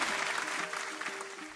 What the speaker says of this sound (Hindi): पिंकी के लिए जोरदार तालियां